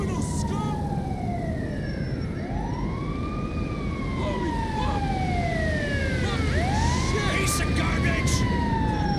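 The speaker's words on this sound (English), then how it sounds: "Got the ambulance coming to clean it up." Ambulance siren in GTA 5, wailing up and down in repeated sweeps as the vehicle approaches, loud and fairly close over a constant road rumble, with overlapping siren tones near the end.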